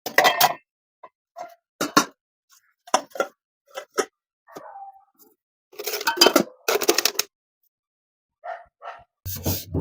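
Steel kitchen dishes and pots clink and clatter as they are stacked away, in sharp, scattered knocks separated by short silences, close and fairly loud.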